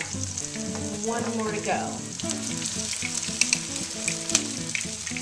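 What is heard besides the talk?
latkes frying in hot oil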